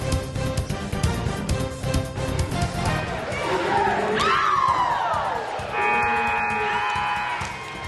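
A crowd cheers and shouts at a Lakota vs SMCC game, with Panthers fans rallying across the gym. The loose roar is mixed with rising yells and an announcer talking.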